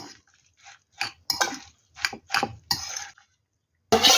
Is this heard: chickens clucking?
no